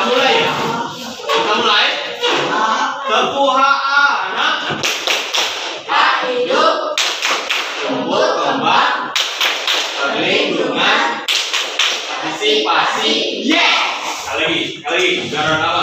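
A group performs the Tepuk Anak rhythmic clapping chant, with loud, close voices chanting together in time with sharp, patterned hand claps and slaps that keep a lively beat throughout.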